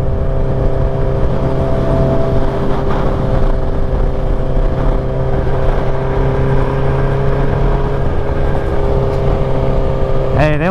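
Kawasaki Ninja H2 motorcycle cruising with a steady, loud engine drone and rushing wind throughout, a brief rising rev near the end.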